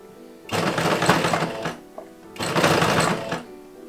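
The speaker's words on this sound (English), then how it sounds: "I placed the ruffle on top of my main skirt and sewed it in place." A sewing machine stitches a ruffle onto a skirt in two close, loud bursts of rapid whirring, each about a second long, separated by a brief pause.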